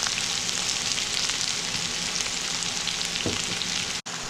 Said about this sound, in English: We will fry them till it gets a crispy golden brown color